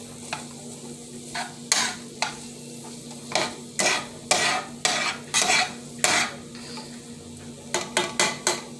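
Peppers sautéing in a pan for a Bronx bodega-style chopped cheese sandwich, a steady sizzle punctuated by a series of loud rhythmic spatula scrapes and clacks, close up with no talking.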